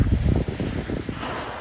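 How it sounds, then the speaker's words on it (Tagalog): Ocean waves breaking on a US shore in summer, a brief roaring wash of surf heavily mixed with wind buffeting the microphone, loud at first and easing slightly, with no talk. "ang ganda ng wave"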